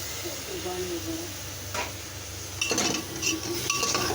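Broken wheat and lentils going into a pot of sautéed spices, faint sizzling with metal clinks and a rattling pour followed by scraping stirs near the end.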